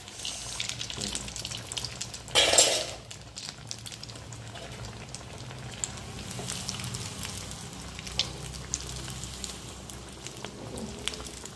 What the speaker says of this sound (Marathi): चांगले लाल तळायचे बरं का वडे। तळताना ते मध्ये कच्चे नाही राहणार याची खबरदारी घ्यायची।